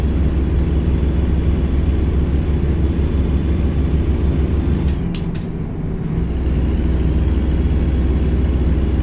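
Deep, constant engine roar of a loaded semi truck in American Truck Simulator carrying 37,000 pounds of yogurt, heard from the closed cab; a brief dip and sharp clicks midway before the steady drone resumes.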